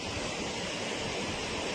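Rushing floodwater after heavy rain in Andhra Pradesh, deep enough to swamp a bus, roars as a loud, steady broadband wash with no breaks and no voices.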